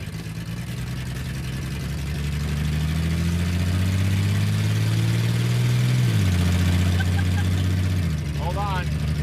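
A lead sled hot rod engine idling with no exhaust fitted, a loud, rough, steady rumble close up whose pitch sags and shifts over several seconds, with a brief squeal near the end.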